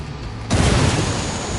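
A grenade blast in Ghost Recon Wildlands, a sudden loud boom that breaks in after a moment of background and rolls into dense, sustained rumbling noise, close and alone.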